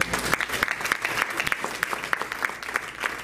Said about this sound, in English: Big round of applause for Patrick, Sue, Harry, Dana, all of the Lebanon Area Fair team